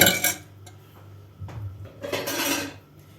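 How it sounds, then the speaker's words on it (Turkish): A whisk clatters against a bowl as soda and oil are beaten into a börek batter, with a few quick metallic scrapes and clinks in irregular bursts, close and fairly loud. "çırpıcı yardımıyla karışımları iyice karıştıralım arkadaşlar"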